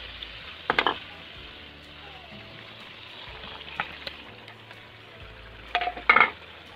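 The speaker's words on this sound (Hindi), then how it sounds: "अब हम इसमें मैरिनेट की हुई मछली डालेंगे।" Marinated fish goes into frying masala for a fish curry, with a soft, steady sizzle underneath and a few sharp clatters and scrapes of a utensil against the pan, heard close with no talking.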